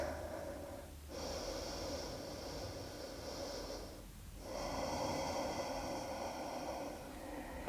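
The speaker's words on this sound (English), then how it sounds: "Taking a deep breath here." Slow, deep breathing during a calm yoga practice, with two long airy breaths heard close and soft, separated by brief quiet pauses, and no talking over them.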